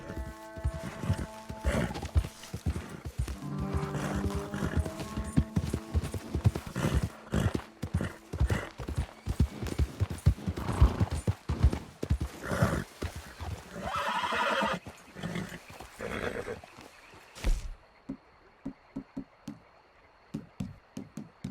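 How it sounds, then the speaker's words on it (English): In Red Dead Redemption II, a horse's hooves clip-clop in a steady walking rhythm, close by, with a whinny partway through, and the hoofbeats fade toward the end. "Calm yourself, horse."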